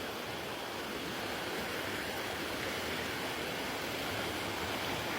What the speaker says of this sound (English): So this is the Virgin River right here.